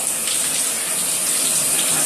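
Tap water runs steadily in a sink or shower, rinsing hair product out of hair during a first wash. The hiss stays continuous and fairly loud for the whole stretch, with no talking over it.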